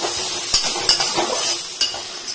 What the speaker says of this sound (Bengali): তো সবজিগুলো এখন ভাজা চলছে